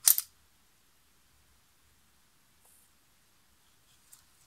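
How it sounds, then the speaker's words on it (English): A single sharp mechanical snap as a Zorki 1 rangefinder camera shutter is released with its curtains removed, leaving the bare shaft to spin, followed by near silence and a couple of faint small clicks. "And now I release the shutter."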